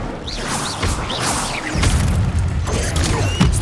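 Incendio fire spell cast in Hogwarts Legacy: whooshing, crackling bursts over a dense game soundscape, with a rumbling low boom swelling midway and continuing to the end.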